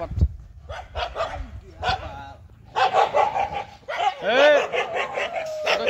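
Several dogs bark repeatedly nearby, with a yelp and a whining howl mixed in, in bursts of varying loudness.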